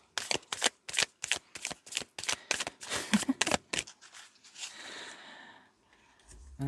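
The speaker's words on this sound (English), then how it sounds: "Let's try one more shuffle." A deck of oracle cards is shuffled in a series of quick, crisp riffling bursts close up, then the sound trails off into quieter handling of the cards.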